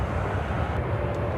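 An airliner in Star Alliance livery rumbles at Chicago O'Hare, a steady, broad low engine roar that holds evenly for a brief moment.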